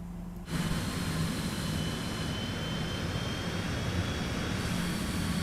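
Cessna Citation X jet engines in a flight simulator cut in abruptly after a brief quiet moment, then hold a loud, steady broadband roar with a faint high whine.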